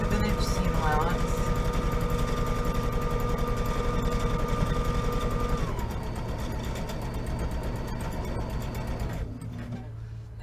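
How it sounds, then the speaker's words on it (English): A sewing machine runs continuously with a rapid mechanical stitching rhythm, sewing tote bag handles, steady and close, slowing slightly near the end. "at the sewing machine, I'm just doing 1/8 of an inch seam allowance."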